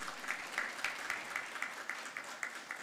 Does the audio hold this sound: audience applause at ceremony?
yes